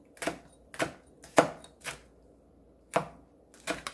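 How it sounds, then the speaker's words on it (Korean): Knife chopping cheongyang and red chili peppers on a cutting board in a kitchen, seven crisp, close, separate knocks at an uneven pace with quiet gaps in between, no voices. "청양고추 하나, 홍고추 하나 송송송송 썰어줍니다"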